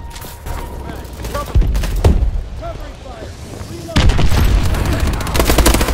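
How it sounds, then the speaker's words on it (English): Enemy missile strikes and gunfire in the Advanced Warfare first-person shooter, rattling bursts and booming impacts that swell loudly near the end, heard under a player talking over the game. "Enemy missile strikes."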